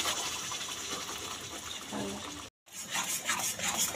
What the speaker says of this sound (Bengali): এবার এই গরম ঘিয়ের মধ্যে যে আমটাকে আমি মেশিনে ব্লেন্ড করে রেখেছি সেটা দিয়ে দিলাম।